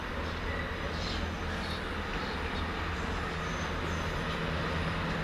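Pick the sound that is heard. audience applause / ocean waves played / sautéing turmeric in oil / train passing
train passing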